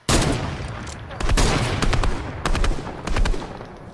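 Gunfire in the video game Fortnite: loud, close bursts of rapid shots in several clusters over a few seconds, with a faint voice underneath.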